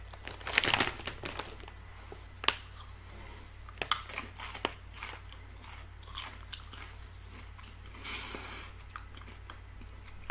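A very crinkly snack package from a Munchpak box is torn open and handled up close, giving sharp plastic crackles and crumpling bursts with quieter rustling between them and no talking.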